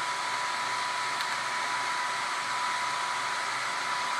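A cheap 1300-watt PSU's cooling fan runs loudly and steadily, a continuous close whooshing hiss with a faint tonal whine, unbroken for several seconds with no talk.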